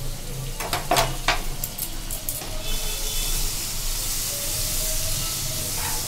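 Chicken wings fry in butter in a pan, opening with a few close clinks and stirring taps before settling into a steady, rising hiss of sizzling fat.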